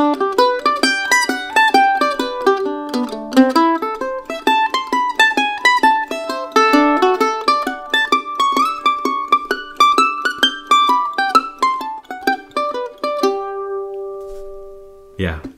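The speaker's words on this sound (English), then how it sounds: "This is an arpeggio exercise I've learned from master jazz mandolin player" Jazz mandolin playing an arpeggio exercise, a fast, continuous run of bright picked notes climbing and descending for about thirteen seconds before settling on a held chord, close and clear with no talking.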